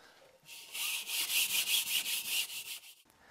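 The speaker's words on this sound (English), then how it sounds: "I use a scuff pad like this to scuff the surface so the tile would adhere properly" A scuff pad rubs rapidly back and forth across an RV kitchen wall surface in a steady, raspy scrubbing rhythm of about a dozen close strokes, heard alone for roughly two and a half seconds.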